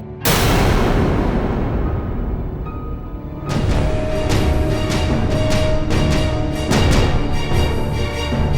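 Gunfire during a party scene in a Hindi TV drama, a loud sharp blast at the start followed by a ringing decay, then dense booming, crackling dramatic impacts and music swelling.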